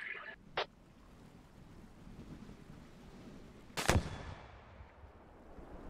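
An LAT anti-tank launcher fires in the video game Squad, giving a single sharp, loud blast set against quiet ambient wind and distant noise.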